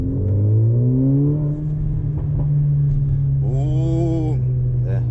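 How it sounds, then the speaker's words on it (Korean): A Mercedes-AMG A45 (W176) four-cylinder exhaust booms loudly from inside the car as it accelerates hard, the engine tone climbing steadily, then settling and rising again near the end, with no talking. "이 차 뭐 배기음 잠깐만 밟아볼게요"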